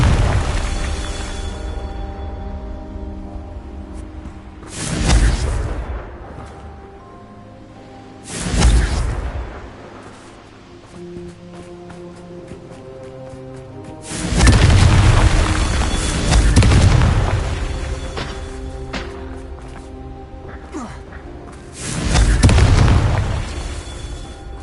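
The Confringo blasting spell explodes in a series of deep booms spaced several seconds apart, each swelling and fading into rumbling debris over a low sustained background.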